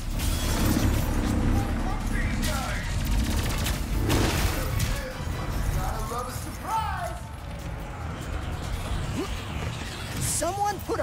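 Sustained gunfire and mechanical clatter in the action game Ratchet & Clank: Rift Apart during a parade scene, with bursts of shots under chirpy robotic voices and characters talking throughout.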